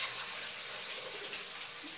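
Tap water running into a kitchen sink while a ground-meat giniling meal is being cooked, a steady close splashing stream with no talk.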